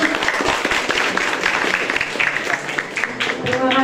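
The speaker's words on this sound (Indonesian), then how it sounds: "Beri tepuk tangan semuanya." An audience at a ceremony with the Sultan of Paser applauds, with dense, steady clapping for a few seconds that sounds close and continuous throughout.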